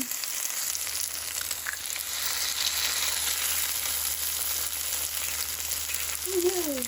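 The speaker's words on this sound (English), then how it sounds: "crack a few eggs on top" Eggs cracked over sausage and potatoes sizzling in a hot pan, a steady close frying hiss throughout with no speech.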